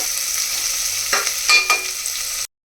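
Onions frying in a pan for biryani give a steady broadband sizzle, with a few brief stirring scrapes partway through and then a sudden cut to silence.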